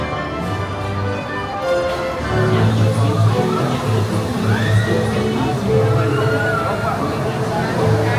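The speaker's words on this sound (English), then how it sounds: "Love just hearing the screams from further up on the wheel." Screams and whoops from riders on the swinging gondolas of a Ferris wheel at Disney California Adventure carry from a distance over a steady crowd murmur and nearby chatter.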